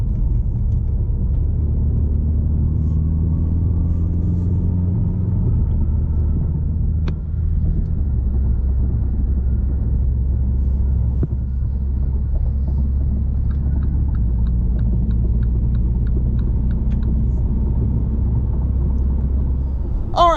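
A MINI Cooper S Countryman All4 (F60) with an 8-speed automatic drives in sport mode: a steady low engine and road rumble from inside the cabin, with a few faint clicks and ticks over the drone.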